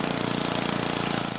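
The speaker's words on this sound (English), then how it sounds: "I'm going with old black guy on a lawnmower" A lawnmower engine in the video game Happy Wheels, a continuous buzzing mid-pitched drone with a fast regular pulse, running steadily and fairly loud with no talk over it.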